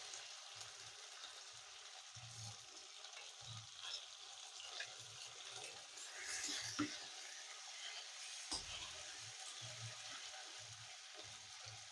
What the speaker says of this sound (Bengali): কাঁচা লঙ্কা আর আদাটা একটু ভেজে নেব যাতে কাঁচা গন্ধটা চলে যায়।